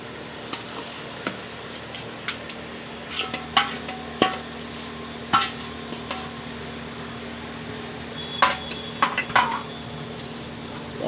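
Carrot and mango pickle being pressed down and packed into a jar, with irregular clinks and scrapes of a utensil against the container, fairly close and with no talking.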